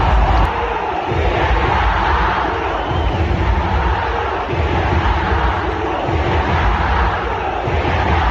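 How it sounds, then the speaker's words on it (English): A huge home cricket crowd in Colombo roars continuously as Sri Lanka press against New Zealand, a loud, dense wall of cheering and chanting with no letup. "Listen to the crowd."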